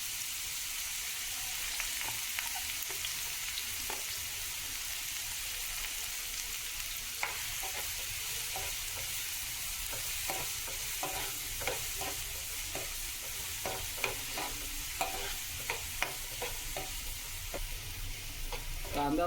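Finely chopped onion sizzles steadily in a pan for a Marathi dried mackerel chutney, with intermittent scraping and clicking of a spoon stirring through the steady frying hiss.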